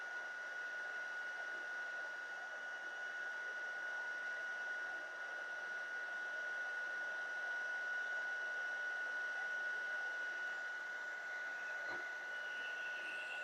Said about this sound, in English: heat it up with the heat tool until it turns shiny